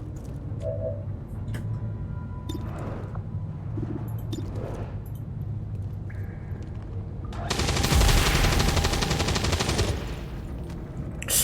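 Weapons firing in the XCOM 2 video game, with dense automatic bursts swelling loud in the later part over a steady game ambience. Earlier there are quieter scattered shots and effects.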